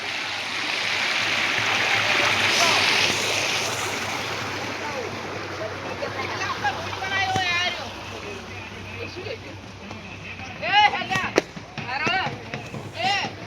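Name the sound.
waterfall flowing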